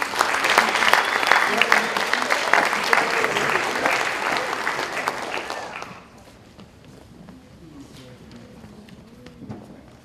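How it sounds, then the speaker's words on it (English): A high school band concert audience applauds, with loud sustained clapping for about six seconds before it drops away, leaving quieter room noise and faint talk. "One more round of applause."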